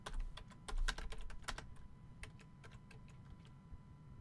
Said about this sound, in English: let's see if we can type in UFOs in Antarctica